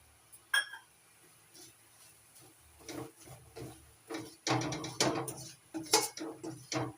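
A spoon scrapes and knocks in a pan as cardamom powder is mixed into a dry semolina dough for suji modak. The clinks are faint and sparse at first, then come as busier scraping strokes, with no talking.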